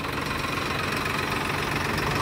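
A Swaraj tractor engine runs steadily nearby, a loud, continuous low diesel rumble with a rhythmic knocking throb and no voices over it.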